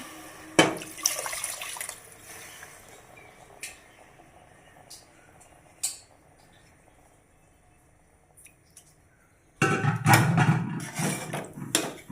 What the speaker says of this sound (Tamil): இப்போ தண்ணியை 4 டம்ளர் தண்ணியை ஊற்ற போகிறேன்